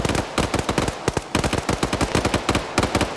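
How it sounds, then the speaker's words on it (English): An M60 machine gun firing in a video game, loud rapid bursts of automatic fire with brief pauses between them, close and continuous with no talking. "Now we see that M60 doing work."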